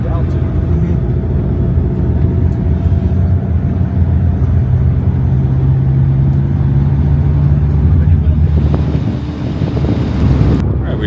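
A vehicle drives along a road in Ecuador near the town of Sigsig, with steady engine rumble, road roar and wind buffeting the microphone throughout, plus a brief shift near the end; voices are faintly mixed in.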